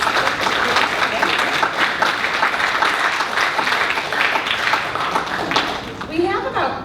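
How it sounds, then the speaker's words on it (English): An audience at a Title IX panel breaks into applause, a dense, steady wash of clapping that holds for several seconds and thins out near the end. "Can we get a round of applause?"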